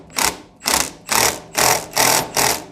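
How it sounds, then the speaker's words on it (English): A Milwaukee impact wrench on its medium setting torques down the cap on a KYB open-chamber motorcycle fork, firing six loud, evenly spaced hammering bursts at close range. "just taken my impact on my medium setting, which I have a Milwaukee, so it can get a little bit gnar, and go ahead and torque it down"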